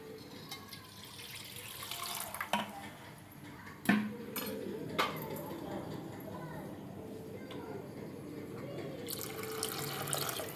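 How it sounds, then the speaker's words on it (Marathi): Water is poured into a pot of kadhi made with besan and curd, a soft trickling pour with scattered utensil clinks, while a person talks over it. "थोडंसं अजून जरा पाणी टाकते"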